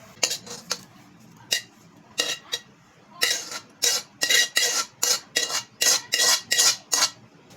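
Metal utensil scraping and clinking against a pan while caramelized mulberries are scooped out, a series of sharp, close clatters, sparse at first and then quick and regular, with no talking.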